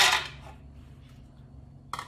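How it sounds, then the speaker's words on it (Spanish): Almonds drop into a container with a quick hard clatter at the start, then a quiet pause before another short rattle at the end. "vamos a iniciar únicamente colocando las almendras"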